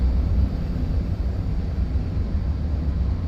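Aircraft engines roar in the combat flight game Nuclear Option, a loud, steady low rumble that holds throughout without a break.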